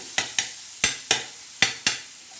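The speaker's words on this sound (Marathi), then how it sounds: "हे असं बारीक करायचं टमाटे सगळे" Tomatoes being crushed fine for a spicy tomato thecha with green chillies and garlic, heard as six sharp, close pounding knocks in an uneven rhythm with quiet gaps between.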